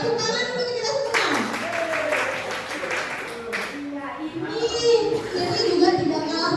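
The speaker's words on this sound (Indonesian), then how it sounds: "Tepuk tangan untuk kita semua." Applause and clapping from a teachers' audience at a school training session, bursting up briefly over a voice that keeps talking, with children's voices and room chatter around it.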